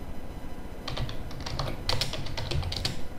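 Python code is typed on a computer keyboard in a brisk run of close, crisp key clicks that starts about a second in and continues steadily over faint room noise.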